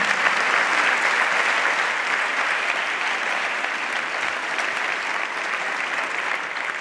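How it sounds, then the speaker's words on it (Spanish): Sustained, steady applause from a large audience at an awards gala, welcoming the prize winners; even, dense clapping that holds at the same level throughout with no talk over it. "¡Vamos con ese aplauso a ellos, hombre!"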